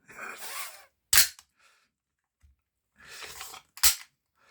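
A Desert Eagle toy blaster fired with an empty magazine gives two sharp, loud snaps about three seconds apart, each preceded by a brief rustling handling noise.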